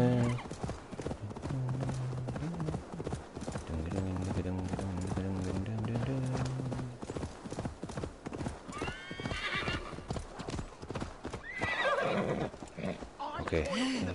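Horse hooves clip-clop steadily and a horse neighs loudly in a Viking video game set in ancient England, and voices are heard over the hoofbeats.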